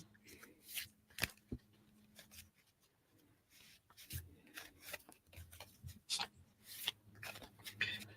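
Angel cards being shuffled by hand at close range, with soft papery riffles and slides coming in irregular bursts over quiet room tone.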